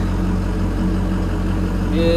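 A 1986 Ford bullnose truck fitted with a swapped 6.0 Powerstroke diesel idles with a steady, deep low rumble and constant drone, close and even throughout, with a faint higher whine creeping in near the end.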